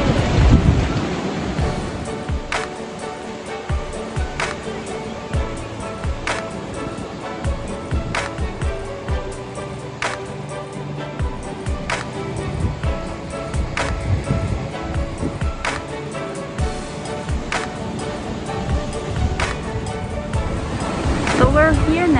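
Ocean waves roll onto a beach in a steady, loud wash of surf, with scattered sharp knocks and bumps close by.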